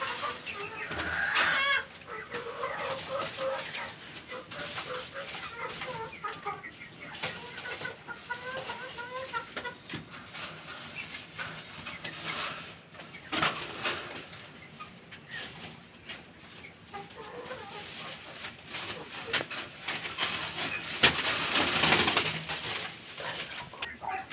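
Chickens and pigeons in their coops cluck and coo in a steady, close mix of fowl calls, with occasional bursts of louder activity.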